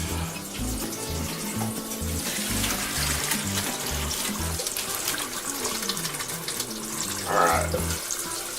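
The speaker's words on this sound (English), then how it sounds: "drain this water off." Hot water from a pot of boiled potatoes pours into a kitchen sink in a steady, splashing rush for several seconds, with a brief word spoken and low rhythmic sounds underneath.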